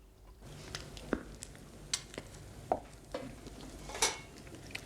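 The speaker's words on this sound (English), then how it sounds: "Oh, you give it a good old stir, sir." A spoon stirring a Christmas pudding mixture in a bowl, a few distinct scrapes and knocks spaced over several seconds against a quiet room background.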